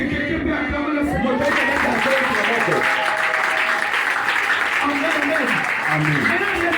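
Church congregation applauding and cheering in praise of the Lord during a French-language sermon, a dense, steady wash of clapping and voices filling the room throughout, with a preacher's voice carrying over it.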